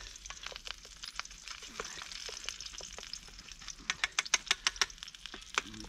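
An egg sizzles and spits in a pan outdoors in the woods under a tarp, with a steady fry broken by sharp crackling pops that grow louder near the end; a few faint voices in the background.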